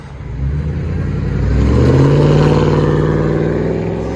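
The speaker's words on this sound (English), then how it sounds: "Ford Expedition muffler and resonator delete." Ford Expedition with the muffler and resonator deleted, its loud engine revving up from idle into a raspy, droning roar that holds steady, heard close by.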